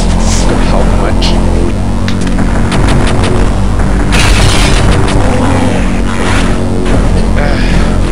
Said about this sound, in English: Damn, I have a power bomb.